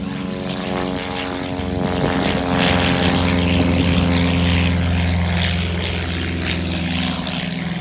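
A propeller basic trainer aircraft takes off at Point Cook, its engine a loud, steady droning roar with strong harmonic hum that swells as it lifts off and holds through the run.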